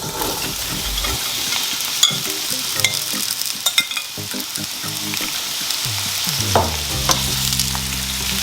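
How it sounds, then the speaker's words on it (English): Mixed vegetables sauté in a pot of reused fish-frying oil for Jamaican escovitch fish, a steady close sizzle with repeated scraping stirs and spoon knocks against the pot, no talking. "I'm going to saute this for maybe 2 or 3 minutes"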